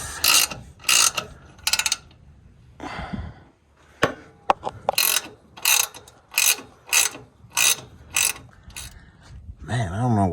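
A hand ratchet loosening 10mm nuts on the fuel pump of a Subaru Sambar, heard as loud, close bursts of rapid clicking in repeated short strokes, with a pause and a few knocks partway through.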